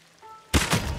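A heavy headshot impact in the samurai video game Ghost of Tsushima lands as one sudden close thud with a short crunchy burst after a quiet lead-in.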